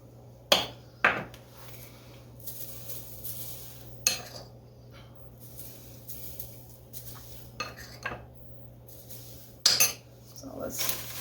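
A utensil stirs sweet popcorn dusted with cinnamon, nutmeg and sugar in a full pot, producing sharp metallic clinks and knocks at irregular intervals between quieter rustling, close and fairly loud.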